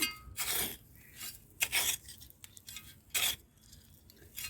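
Potting soil ingredients being mixed together by hand for a terrace garden, heard as several separate bursts of gritty scraping and rubbing with quiet gaps between, close and fairly soft, with no talk.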